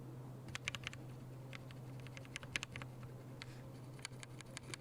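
Keyboard switches lubed with laser printer lube, pressed repeatedly in quick irregular clusters, each keystroke a faint scratchy click close to the mic over a steady low hum.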